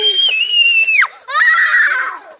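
Children screaming and shouting, loud and close: a long high-pitched shriek breaks off abruptly, then after a brief pause another shrill scream follows.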